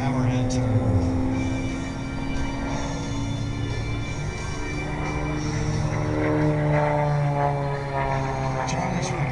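A stunt propeller airplane engine at an air show droning steadily in the distance, its pitch slowly shifting as it performs a hammerhead turn and side slip, with a voice commentating over it.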